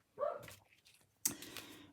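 A dog barks at the postman from another room, two short muffled barks about a second apart, faint and a little distant.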